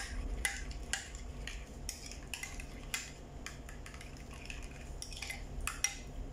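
A spoon stirs a yogurt sauce for cucumber salad in a bowl, giving a series of light, irregular clinks and scrapes against the dish, close and fairly quiet over a low background hum.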